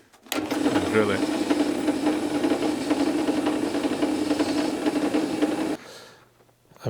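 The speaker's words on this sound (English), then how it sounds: "now I've got the centre pop I can drill to on my drilling machine" A drill press drills into metal with a steady, loud whirring grind for several seconds, then cuts off abruptly, leaving a quiet hum.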